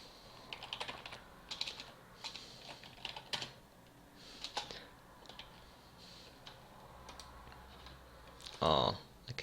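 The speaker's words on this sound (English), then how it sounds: "I'll even type it to Alexandre, US administrator." Soft, quick keystrokes clatter on a computer keyboard in scattered bursts, quiet and close, with one louder thump near the end.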